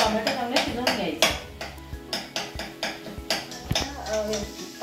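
Tomato masala with baby prawns stirred in a pan over a low flame, with steady rhythmic clinks and scrapes of the spoon against metal over a faint sizzle.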